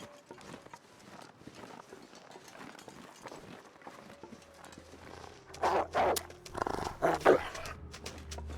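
A wolf in the survival game The Long Dark gives several loud, close barks and snarls in two bursts near the end, after a quieter stretch of rustling and crunching footsteps.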